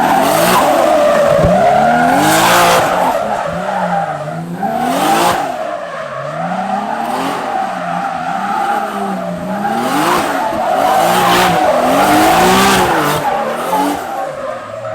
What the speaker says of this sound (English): We'll see how the automatic all-wheel drive works for drift and slides.